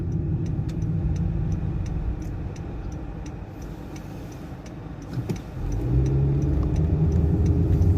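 A 2019 Honda Jazz rounds a roundabout, its steady engine hum and road rumble continuous and close, with the indicator ticking rhythmically throughout and no voices.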